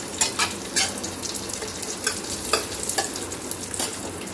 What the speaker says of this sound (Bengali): আর কাজু কিশমিশটা এর মধ্যেই দিয়ে একটু নাড়াচাড়া করে নেব